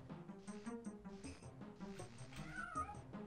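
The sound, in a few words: cat meowing in the video game Daggerfall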